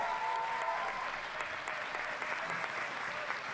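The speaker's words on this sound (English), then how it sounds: "As lead organizers, a warm applause," Warm applause from a festival audience at Indigenous Liberation Day, cheering its lead organizers: a dense, steady wash of many hands clapping, loud and continuous from start to finish with no talk.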